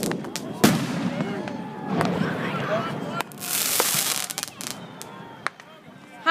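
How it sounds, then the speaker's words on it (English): Fireworks burst repeatedly at an outdoor display, with sharp booms and crackling pops scattered irregularly at moderate distance while people chat nearby. "Are you enjoying the fireworks?"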